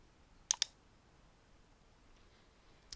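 Mouse clicks in BandLab music software: a quick pair of sharp, close clicks, then quiet, a faint tick, and one more crisp click at the end.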